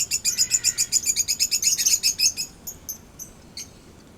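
Asian paradise flycatcher calling in summer, a rapid run of bright, repeated chirps for about two seconds, then scattered single notes trailing off, close and clear over faint insect hum, with no talk.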